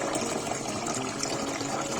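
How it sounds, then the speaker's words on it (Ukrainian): Steady stream of hot water pouring into a pot, a continuous broadband rush with no pauses, fairly close. "Заливаю гарячу воду"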